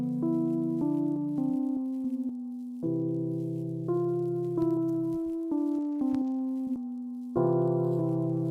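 Synthesizer notes played with heavy reverb, a slow sequence of sustained harmonic tones with each note ringing into the next, steady and moderately loud with no talking.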